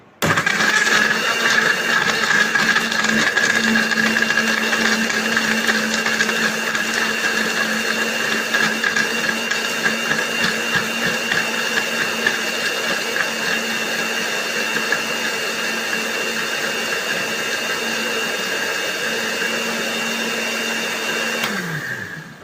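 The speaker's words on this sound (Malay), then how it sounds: "Dan kita blender." Mangosteen peel blended with water in a kitchen blender, a loud continuous whirring motor whine that runs steadily for about twenty seconds before spinning down abruptly at the end.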